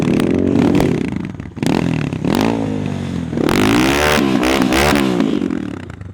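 A motorcycle engine revs loudly and close on ice, rising and falling in pitch through repeated throttle bursts with some clattering and scraping, and no talk.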